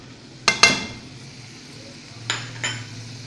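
Whole coriander seeds and roasted cumin drop into hot oil in a pan while making butter chicken, giving two sharp crackling bursts early and two more later over a low, steady sizzle.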